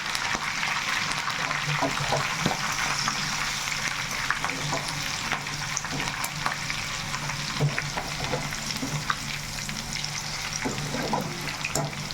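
Chicken pakoda sizzles steadily in hot oil, a close, continuous crackling fry with occasional sharper pops and stirring sounds throughout.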